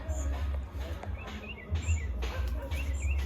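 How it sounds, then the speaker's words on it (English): A small bird chirps outdoors among trees at an ackee-picking spot: short high tweets repeated every half second or so, moderately clear over a constant low outdoor rumble, with no talking. "I saw the cutest little bird"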